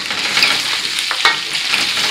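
Pork pieces frying in their own rendered fat for fritada, a loud, continuous close-up sizzle and crackle with brief bursts as the meat is stirred.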